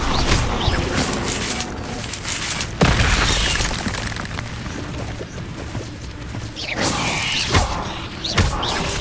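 A fire spell is cast during combat in Hogwarts Legacy, a burst of booming, whooshing impacts with sharp thuds around 3 and 8.5 seconds over a dense, loud rumble of game effects.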